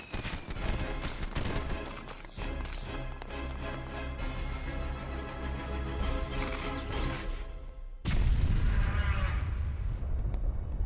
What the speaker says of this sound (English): we get a nice little fireworks show